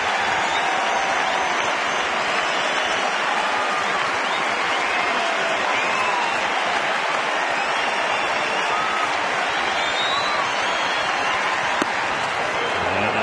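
A baseball stadium crowd of over 40,000 rises with steady, dense applause and cheering, an even roar of clapping that holds loud and continuous from start to finish.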